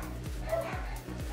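Pet dogs barking indoors at home, three quick barks spaced evenly across a short moment, moderately loud and alone without speech.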